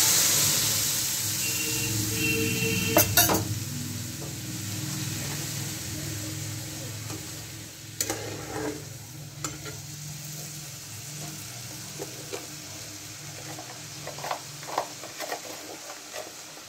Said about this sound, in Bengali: আমি এবার সাঁতলে নেব। ডালটা দিয়ে দিলাম।